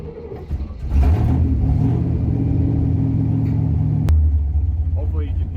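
A 1966 Oldsmobile 88 with a 425 big block, vacuum secondary carburetor and true dual exhausts runs loud and close. Its deep, throaty rumble rises as the engine revs and holds a heavy idle-to-drive drone.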